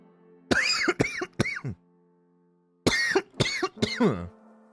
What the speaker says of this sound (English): I got some cough.